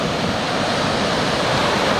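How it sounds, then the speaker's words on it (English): Ocean waves break steadily on a beach at Marina, California, a loud, continuous roar of surf with no voices. "Now, these waves are a lot more serious than I've seen so far in this entire trip."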